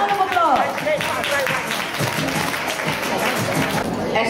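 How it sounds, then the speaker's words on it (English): An audience at a school farewell dinner applauds alumni coming on stage, a steady wash of clapping from a crowded room heard under a voice talking. "Let's give the alumni a round of applause."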